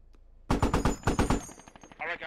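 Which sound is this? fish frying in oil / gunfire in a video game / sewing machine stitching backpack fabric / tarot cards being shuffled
gunfire in a video game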